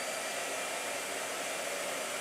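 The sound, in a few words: blow dryer drying watercolor paint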